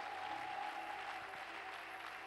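A church congregation breaks into steady, sustained applause, a dense wash of clapping hands filling the room at even loudness throughout, with no one speaking over it.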